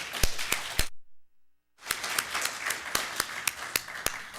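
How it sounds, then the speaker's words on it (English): A small audience claps steadily, sharp individual claps standing out, with a brief silent gap before the clapping resumes and carries on. "Let's give another round of applause to all our presenters."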